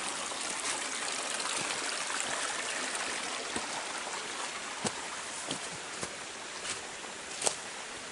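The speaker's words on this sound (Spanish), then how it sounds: "Ya es un río. Que no, hombre, que corre agua." River water flows steadily over stones in a rural farming setting, a continuous close rushing and trickling with small splashes and no talk.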